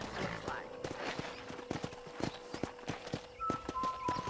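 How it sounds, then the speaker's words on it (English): In the Red Dead Redemption video game, a ridden horse's hooves clip-clop in a steady walking rhythm, close and moderately loud, with a brief tonal game sound near the end. "let's see if you can still ride a horse"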